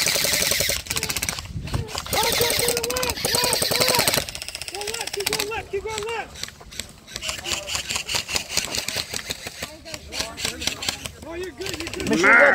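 Gunfire in a tank battle video game: dense, loud, continuous bursts of automatic fire and blasts, rattling without pause, heard alongside game audio and chatter.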